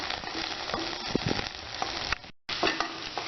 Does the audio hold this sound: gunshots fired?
no